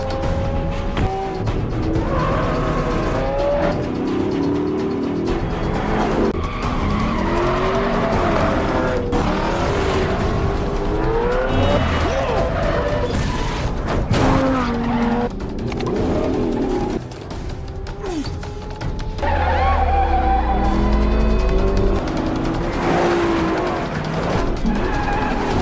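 In a car chase scene from the 2017 film Superfly, a car crash plays out with loud tire squeals and skidding, engines roaring and metallic impacts, all sustained and intense over dramatic film sound.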